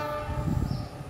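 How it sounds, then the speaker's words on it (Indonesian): Argo Wilis executive and panoramic passenger train with its old stainless steel carriages rumbles past close by, a loud low continuous roll of wheels with no voices. "Kereta api Argo Wilis ini"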